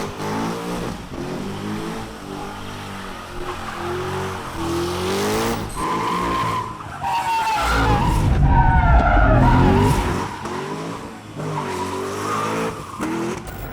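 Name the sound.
Corvette C6 Z06 doing burnouts, tires skidding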